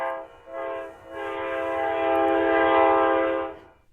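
An Amtrak train horn sounds a sustained, loud blast that swells in two short pulses before holding steady for several seconds and then cutting off.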